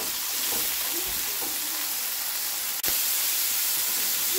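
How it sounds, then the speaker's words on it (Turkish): Liver frying over high heat in hot oil in a pan, a steady close sizzle and hiss with faint stirring scrapes throughout. "Ciğerlerimizi sadece 3 dakika boyunca pişiriyoruz."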